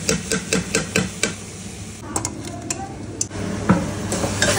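A spoon or spatula stirs cabbage rice with coriander and ghee in a pan, giving a series of clinking, scraping taps with a faint sizzle underneath, fairly close and loud.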